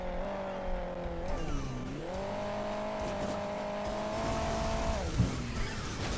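A rally car's engine in the mobile racing game Hill Climb Racing 2 drones steadily with shifting revs, dipping and rising between gear changes, loud and continuous without any talk over it.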